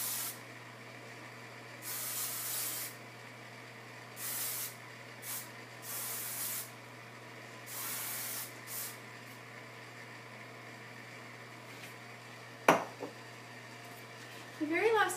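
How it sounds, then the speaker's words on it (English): Hairspray hisses onto hair in several short bursts of one or two seconds each, separated by pauses, against quiet room noise, with a few brief clunks near the end. "I will go in and do hairspray now"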